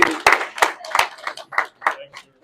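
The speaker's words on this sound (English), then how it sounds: "everybody just give a round of applause for Travis right here" Scattered hand clapping from a small group at a college football postgame press conference, a few sharp irregular claps at close range with no steady rhythm, fading out within a couple of seconds.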